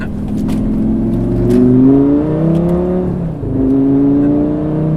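A Lamborghini Gallardo accelerates hard nearby, its engine note climbing in pitch, dropping sharply at an automatic gear change, then rising again in a loud, continuous pull with no voices.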